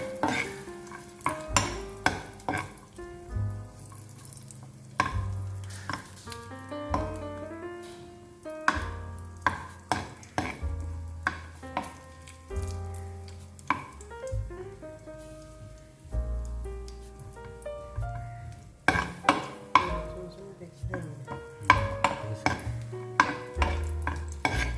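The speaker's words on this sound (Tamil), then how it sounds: "இந்த நெய்யில நான் கொஞ்சமா இந்த முந்திரி பருப்பை வறுத்து எடுத்துக்க போறேன்." Cashews and black raisins fry in ghee with a soft crackling sizzle, punctuated by the tap and scrape of stirring, while melodic music plays in the background.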